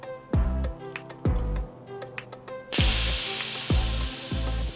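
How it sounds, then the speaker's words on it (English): Air hissing steadily out of a Birdy folding bicycle tire being deflated, a loud continuous spray that starts abruptly and holds, preceded and overlaid by clicks and knocks from handling the wheel. "So next, I will deflate the tire."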